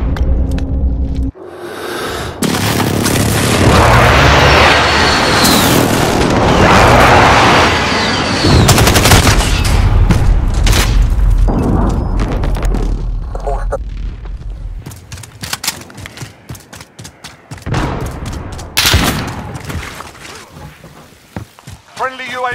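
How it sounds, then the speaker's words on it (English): Precision airstrike explosions in Call of Duty team deathmatch on a sawmill map: loud sustained booms and rumbling blasts mixed with machine-gun fire, followed by scattered shots and bursts, with game voice lines over the chaos. "Friendly precision airstrike inbound."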